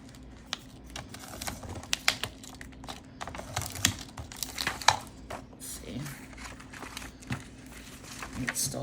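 Paper is cut for a junk journal, giving crisp, irregular snips and crinkling rustles at close range, with someone talking intermittently in between.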